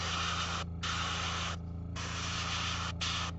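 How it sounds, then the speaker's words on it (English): A spray can lays paint over a Fyreslayer miniature in three long close hissing bursts, separated by brief pauses, with a steady low hum running underneath. "I'm just going to spray this pretty liberally"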